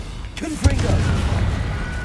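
Confringo fire spell explodes in Hogwarts Legacy, one short booming burst in the middle of a steady wash of game sound, with no voices.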